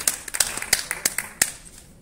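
Scattered hand claps from an audience at a journalism award ceremony in Noto, a handful of sharp separate claps that thin out and fade after a couple of seconds.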